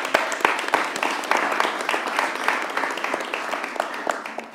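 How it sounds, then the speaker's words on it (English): Forum attendees at an immigration event give a round of applause to the president and CEO of the Hispanic Heritage Foundation, with loud distinct claps clustered at first, then settling into a fairly even patter. "Give them a round of applause for being here"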